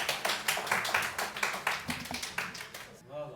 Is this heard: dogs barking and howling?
no